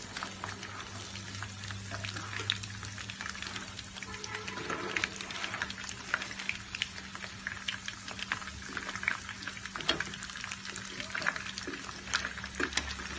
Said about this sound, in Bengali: আস্তে জারে ভাজতে হবে ওই দিকটাও এরকম লাল হলে আমি নামিয়ে নেবো